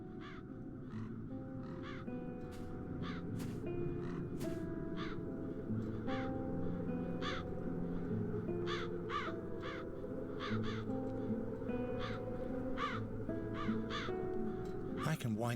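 Crows caw repeatedly in the adventure game The Dark Eye: Chains of Satinav, sharp harsh calls in irregular bursts over a steady background of low music and ambience.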